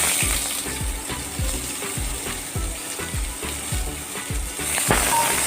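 A large sliced onion sizzles in hot oil in a kadai, a steady close crackle punctuated by regular scraping, clicking strokes of a spoon stirring through it.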